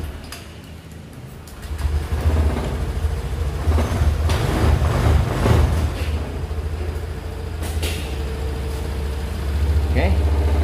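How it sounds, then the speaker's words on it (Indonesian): A Honda Scoopy keyless scooter with a faulty smart control unit starts and idles close by as a steady low engine drone, while someone talks over it. "Nah ini saya hidupkan sepeda motornya."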